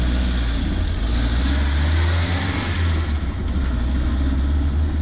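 Close, steady diesel drone of a Mercedes 200d engine pulling in gear after an upshift, a deep low rumble holding constant over several seconds inside the cabin with no talking.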